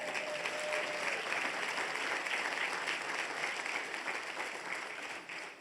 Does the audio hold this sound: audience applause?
yes